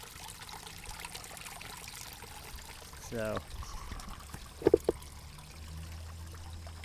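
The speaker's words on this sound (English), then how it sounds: "this is the water feature" Garden water feature trickling and pouring steadily outdoors, a faint continuous splash under a brief spoken word, with a few small knocks and low background sounds.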